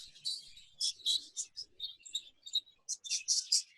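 Exhibition budgies chirping in a breeding aviary, with quick bursts of high chirps and tweets in an irregular rhythm, close and fairly soft, with a faint voice in the background.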